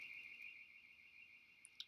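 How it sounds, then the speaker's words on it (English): A car alarm sounds in the distance as a faint, steady high tone, with a few brief nearby clicks at the end. "that's not a siren, that's just a car alarm, I think."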